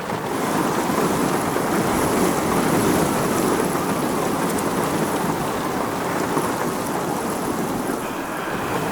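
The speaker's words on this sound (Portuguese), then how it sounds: "O vento uivava e urrava também ao mesmo tempo, feito um animal enfurecido. Aquele uivo do vento," Heavy storm with rain pouring and wind roaring, a dense, loud and constant wash of noise with low rumbling underneath, sustained throughout with no voices.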